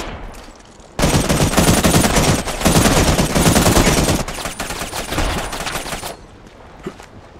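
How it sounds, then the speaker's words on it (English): Heavy automatic gunfire in a video game shootout, sustained loud bursts for several seconds, then sparser shots trailing off near the end. "Someone else is shooting me."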